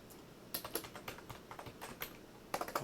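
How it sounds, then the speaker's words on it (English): Quick, light keystrokes on a computer keyboard while coding JavaScript, irregular clicks coming close together, with a faster burst at the end, heard close and fairly quiet. "I keep typing wrong."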